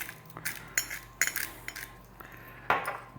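A bowl of cherry tomatoes and onion seasoned with salt and pepper is tossed with a utensil, giving several light clinks and scrapes at irregular intervals, fairly quiet and close with no talking.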